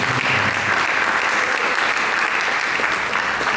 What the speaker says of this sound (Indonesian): Saya rindu kita semua memberikan tepuk tangan bagi Yesus Kristus